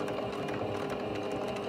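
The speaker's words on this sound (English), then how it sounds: "So I'm just sewing right along the edge there." A sewing machine runs steadily along the edge of a drawstring wash bag, giving a continuous close whirring hum with no pauses and no talk.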